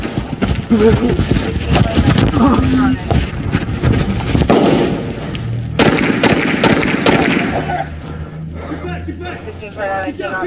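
Gunshots ring out during a police shooting in Indianapolis, several sharp loud bangs among shouting officers, with chaotic yelling and commotion throughout.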